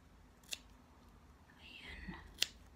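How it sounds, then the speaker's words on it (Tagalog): A pair of scissors cuts a round shape out for a handmade doll: two quiet, crisp snips, one early and one near the end, with soft rustling between them. "Tapos, gugupitan natin."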